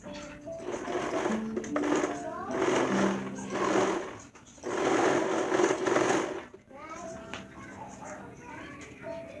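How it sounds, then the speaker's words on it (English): A Brother sewing machine stitches leggings, running in long steady bursts with short pauses between, close by, while a person talks over parts of the stitching. "Now the fun part, sewing."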